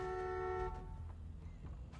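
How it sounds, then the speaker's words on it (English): Car horn honking in The Walking Dead game, one sustained tonal blare lasting under a second, then fading into a quiet rumbling background. "Honk it good. Honk it real good."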